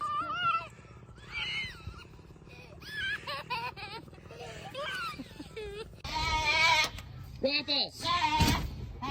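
Farm goats bleat repeatedly in wavering, high cries, some close and loud, interspersed with a cat's meows and scuffling, while people call out in the background.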